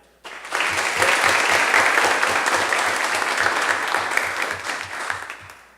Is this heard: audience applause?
yes